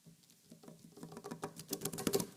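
Heavy rain patters steadily, building from soft to a dense, louder downpour over a couple of seconds, with no voices present.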